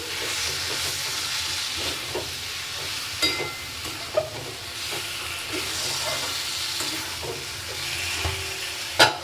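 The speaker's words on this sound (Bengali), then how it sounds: "এবার সুন্দর করে কষিয়ে নিচ্ছি" Potato and pointed gourd sautéing with Kashmiri chili in a pan give off a steady moderate sizzle and hiss, broken by occasional light scrapes and knocks of stirring.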